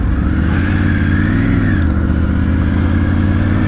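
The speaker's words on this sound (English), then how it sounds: "All motorcycles." Motorcycles riding into the Copdock Motorcycle Show, a loud close engine rumble with revving and clatter as bikes pass.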